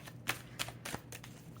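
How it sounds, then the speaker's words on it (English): A deck of tarot or oracle cards being shuffled by hand, soft quick riffles and slides in several short bursts, close but quiet, with no talking. "We're gonna shuffle this other deck"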